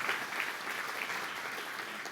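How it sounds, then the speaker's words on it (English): Steady audience applause at a community gathering event, a dense wash of many clapping hands continuing evenly and fairly loud throughout without any speech. "Let's give each other a round of applause just for that opportunity to be back together again."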